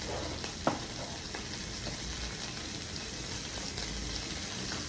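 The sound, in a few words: oily Russian military ration food frying and sizzling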